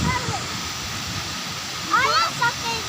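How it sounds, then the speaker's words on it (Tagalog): Steady rushing roar of a waterfall outdoors, constant and fairly close, with people talking over it. "ingon na to ang falls"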